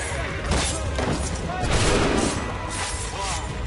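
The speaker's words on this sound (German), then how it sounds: "Das war eigentlich ungewollt zu schießen." Gunfire in Assassin's Creed 3, a rapid burst of shots and booms filling the mix with dense, chaotic crackle over several seconds, loud and close.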